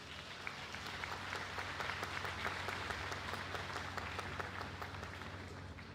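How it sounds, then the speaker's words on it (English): Sustained applause from a large crowd at a university graduation ceremony, dense and even clapping that holds steady for several seconds, heard from a distance in a big hall. "Give them a round of applause."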